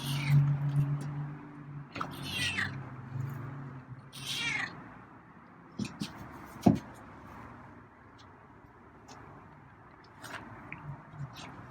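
A feral cat meows several times close by, short plaintive calls spread across the clip, with faint clatter and a soft voice in between.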